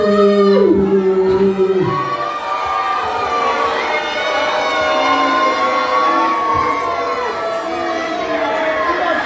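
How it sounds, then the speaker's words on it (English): A lively crowd cheers and chatters for heavyweight boxer Big Joe, a steady roar of voices and shouts with a brief whoop near the start, loud and continuous throughout. "If you can cheer loud, it helps Joe."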